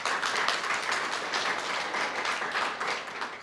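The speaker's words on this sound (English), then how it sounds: "Everyone give a round of applause for Shannon" Audience applause at a literary journal launch reading, a dense steady patter of many hands clapping in a room, fairly even in strength and tapering slightly at the end, with no voices over it.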